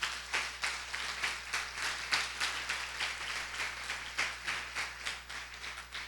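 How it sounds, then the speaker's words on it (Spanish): A church congregation claps in a steady rhythmic beat during a family worship service, the claps fairly quiet and somewhat distant over a constant low hum. "Dele un aplauso al Señor, hermano."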